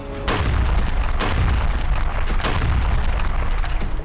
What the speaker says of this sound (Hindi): आसमान से बम बरस रहे हैं, नीचे इमारतें मलबा बनती जा रही हैं।